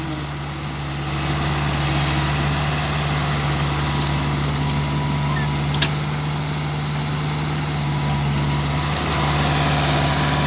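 Komatsu PC60-5 excavator engine running at a steady idle, a loud continuous low diesel drone with a constant hum, close by, with a faint click partway through.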